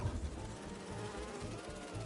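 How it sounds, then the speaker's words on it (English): Holographic bee wolf buzzing in the Spider-Man 2 video game, a close, steady insect drone with a slightly pulsing texture, heard alone without any talk. "Hear that, little bee wolf?"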